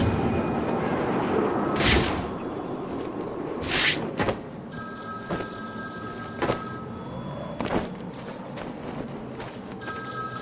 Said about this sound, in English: Answer my phone and answer it quick,